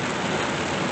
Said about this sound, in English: And it's just raining.